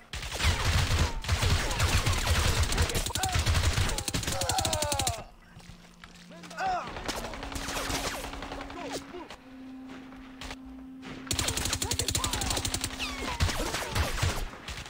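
Rapid automatic gunfire in a video game played with a budget Onn Switch Pro controller, loud sustained bursts that stop abruptly, leaving quieter game sounds and electronic tones, then the shooting resumes.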